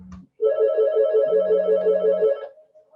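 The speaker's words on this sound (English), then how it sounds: "I now have my phone ringing." A mobile phone rings close and clearly with a buzzing, warbling electronic tone that runs for about two seconds and then stops, alone in a quiet room.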